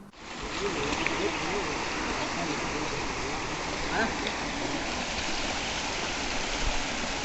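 Steady, loud rush of floodwater pouring through a swollen village stream after heavy rain, a continuous broadband roar filling the whole stretch without any clear voices.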